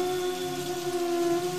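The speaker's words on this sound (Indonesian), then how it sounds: "Sementara derasnya air hujan tetap mengguyur mereka." Heavy rain pours down in a steady, dense wash with a constant low tonal drone beneath it, unbroken and fairly loud throughout, with no voices.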